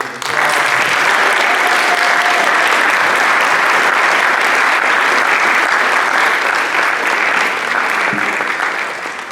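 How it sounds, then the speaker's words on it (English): An audience gives the graduating class a rousing round of applause at a school celebration, with loud sustained clapping from a large crowd that holds steady before easing off slightly at the end. "If you guys can just give our graduating class another rousing round of applause."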